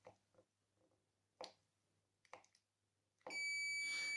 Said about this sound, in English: You will hear beeping in case of my receiver because I uploaded a new firmware on it